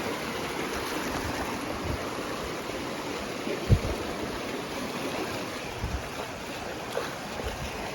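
Steady rushing water fills the scene, a constant broadband wash like a flowing river with occasional splashes.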